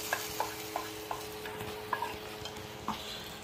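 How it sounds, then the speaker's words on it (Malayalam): Shallots and cashew nuts are mixed in a hot pan for thari kanji, a low sizzle punctuated by a rhythmic series of sharp spoon taps and scrapes about every half second. "ഇനി നമ്മളത് ചെറിയ ഉള്ളിയും അണ്ടിപ്പരിപ്പും എല്ലാം കൂടെ നമ്മൾ മിക്സ് ചെയ്യുകയാണ്."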